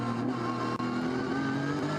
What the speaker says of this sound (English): heading down towards the first corner, the 103 Porsche, which sits in 4th place